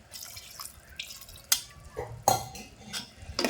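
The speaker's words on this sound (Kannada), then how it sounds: "ನಾನು ಒಂದು ಅರ್ಧ ಗ್ಲಾಸ್ ಅಷ್ಟು ನೀರು ಹಾಕೊಂಡಿನ್ರಿ ಇನ್ನೊಂದು ಸ್ವಲ್ಪ ಹಾಕೋತೀನಿ ರೀ" Water is poured into a peanut cake chutney mixture in a kitchen, heard as a few separate splashing, dripping bursts with small clinks of a vessel in between, close and fairly quiet.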